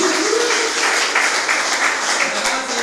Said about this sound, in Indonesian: Oke, silakan tepuk tangan buat Bunda Wiji.